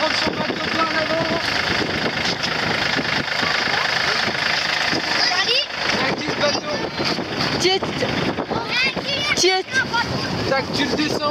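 A motorboat engine at a sailing school runs steadily at low revs, a continuous drone heard close by with wind buffeting the microphone and people talking over it throughout.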